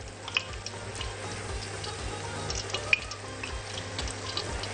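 Garlic sautés in a pan with a soft, steady sizzle and frying crackle, close by, with a few sharper pops and light stirring scrapes.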